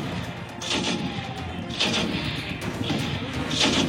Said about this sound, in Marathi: स्फोटांचे आवाज सातत्याने येत आहेत।